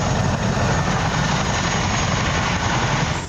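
A medical evacuation helicopter roars steadily close by, its rotor thumping under a dense, continuous engine drone that fills the whole stretch.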